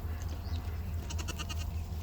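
Goats climbing onto a tractor under a pecan tree to eat leaves, with a short run of bleats near the end over a steady low engine or outdoor hum, no talk.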